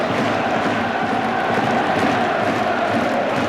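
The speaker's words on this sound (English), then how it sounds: "This will get the crowd going now as well, Gary." Football crowd roaring and cheering in a stadium after a Rovers goal against Huddersfield, a dense, sustained wall of voices throughout with no clear talk over it.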